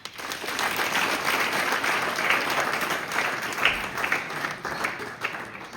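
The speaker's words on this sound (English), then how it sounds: "Clap." Clapping from a school science day audience after a student's demonstration, a dense steady patter of many hands that rises quickly and continues evenly to the end.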